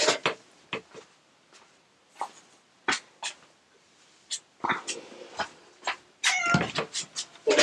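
A pet cat being fitted into pajamas gives short, scattered meows and squeaky cries in a quiet indoor room, with sharp bursts spaced irregularly and a busier cluster near the end.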